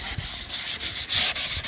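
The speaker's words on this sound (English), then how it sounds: "We really got to do some more sanding, huh?" Body filler on a Jeep Comanche panel is sanded by hand in quick, rhythmic back-and-forth strokes, a close, loud, hissing scrape that pulses with each pass and no voices.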